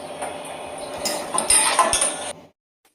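Curry for egg dum biryani is tipped into a metal cooking pot, with close clattering and clinking of utensils against the vessel for about two seconds before everything goes quiet.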